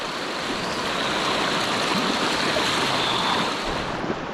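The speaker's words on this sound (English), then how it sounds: "the last thing you want to do is fall into a river like this" A fast-flowing New Zealand river roars in a loud, continuous, broadband rush during a crossing on foot, with no voices.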